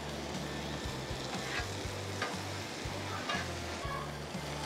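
Butter sizzling on a hot Blackstone flat-top griddle set up at the beach, a steady soft crackle with rhythmic scraping strokes of a spatula across the steel, fairly quiet and close with no talking.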